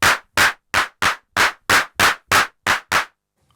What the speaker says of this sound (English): Clap, clap, clap. We got the clap.